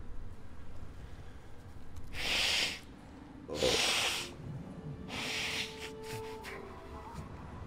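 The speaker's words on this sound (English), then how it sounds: "Let me blow my nose here." Three loud, breathy nose blows in a row, each a short burst of forceful air with brief pauses between, close to the microphone.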